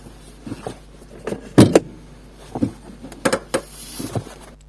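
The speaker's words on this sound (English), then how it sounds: "the parking brake's coming on with about 3 clicks now instead of the 7 to 10" Parking brake on a Volvo XC90 with newly fitted shoes and adjuster being applied in a garage, a few distinct mechanical clicks and clunks spaced across the clip amid low hum, close and moderately loud.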